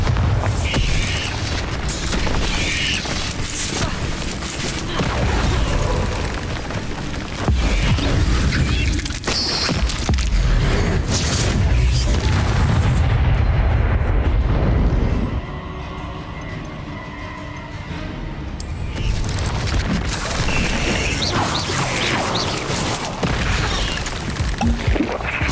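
Bombarda spell blasts in Hogwarts Legacy battle: repeated heavy booms and crashing impacts with clattering debris, loud and dense, easing briefly in the middle before more blasts pile in.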